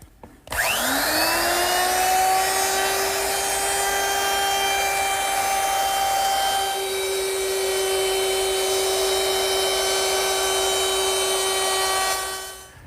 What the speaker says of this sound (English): I'm going to use my router, which is equipped with a 1/4 inch rounding over bit